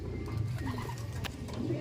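A pigeon coos softly in the background over steady low ambient noise, with faint rustling.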